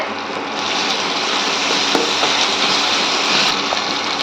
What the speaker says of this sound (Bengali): এবার ভালো করে কষিয়ে নেব সব কিছু একসাথে।